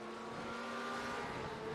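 GT race cars, including a Porsche, running at speed down the Interlagos straight in a racing video game, a faint continuous engine drone with rising pitch.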